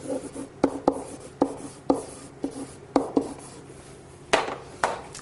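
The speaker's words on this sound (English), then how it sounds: "you can write on an interactive whiteboard" Writing on an interactive whiteboard produces a series of quiet tapping and scratching strokes in an uneven rhythm, close by in a calm room with no talking.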